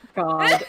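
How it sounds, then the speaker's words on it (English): A dog's single short, tonal bark or yip, close and fairly loud, lasting under a second, preceded by a brief quiet noise. "Yes, it was a dog. It was Amanda's dog."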